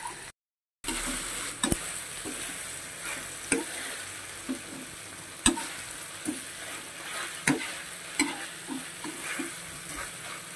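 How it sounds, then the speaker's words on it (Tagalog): Menudo ingredients sauté in a pan with a low, constant sizzle, broken every couple of seconds by sharp knocks of a utensil stirring against the pan, and no talk. "So, ngayon, isosote ko lang siya."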